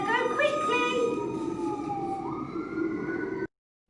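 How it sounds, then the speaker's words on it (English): A fire truck siren wails in a rising and falling tone, steady and moderately loud, then cuts off abruptly into silence. "The siren's going."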